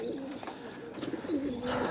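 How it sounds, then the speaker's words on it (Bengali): A black Kalamanik pigeon cooing nearby, two soft rolling coos separated by a brief pause over quiet room background. "এই যে কবুতরটা দেখলেন"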